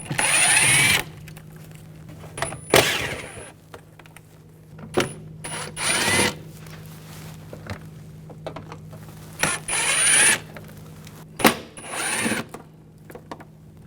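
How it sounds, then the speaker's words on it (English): Bursts of a power tool driving a T25 socket to remove screws from the inner fender area of a 2004-2009 Audi A4, short whirring runs of about a second each separated by quiet pauses. "Using a T25 socket, remove these screws."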